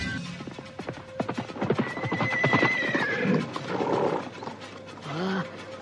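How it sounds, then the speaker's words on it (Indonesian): A horse neighs loudly in an audio drama while hooves clip-clop on the ground, with staged voices and sound effects around it, close and busy throughout. "Bawa kuda ini ke kandangnya."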